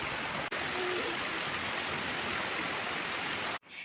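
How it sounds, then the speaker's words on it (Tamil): Heavy rain pours down outside during cold, chilly evening weather, a dense steady hiss that fills the scene without pause before cutting off abruptly near the end. "வெளியே பார்த்தீங்கன்னா நல்லா ஜோனு மழை பெய்யுதுங்க"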